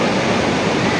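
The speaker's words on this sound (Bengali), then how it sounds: "দারুণ ওয়াটারফল, এই সামনে রিভারের মতো জল বয়ে আসছে, আর এখান দিয়ে জলটা ওয়াটারফলের মতো করে পড়ছে" A waterfall and rushing river rapids in Pokhara, Nepal, roar as a loud, steady, close wash of broadband water noise with no pauses and no voices.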